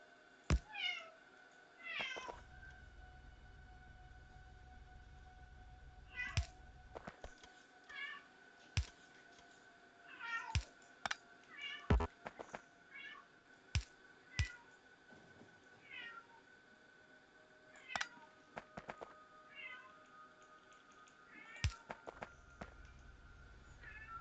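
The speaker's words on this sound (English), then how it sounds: "Yes, the cat is hungry," A hungry cat meows repeatedly in short, insistent calls scattered over a low background hum, with occasional clicks and soft thumps between them.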